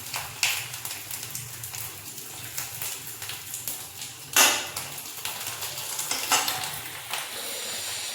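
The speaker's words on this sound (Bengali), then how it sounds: "চলো তাহলে ভেজে নিই" Green papad frying one at a time in a pan, giving a steady close crackling sizzle with bursts of louder popping and occasional clatter from the pan.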